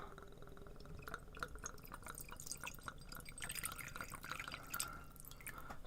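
Water being poured into a bowl holding sponges, heard as close, continuous splashing and dripping with small bright spatters throughout.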